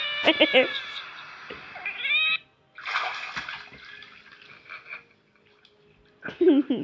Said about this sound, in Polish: Kot śpiewa.